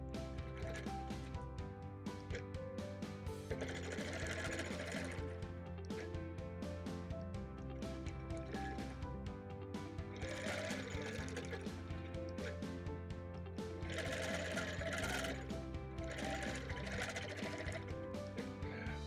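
Sewing machine stitching a Gypsy Wife quilt, quiet rapid mechanical whirring in bursts that start and stop, with short pauses between runs of stitches and no talk.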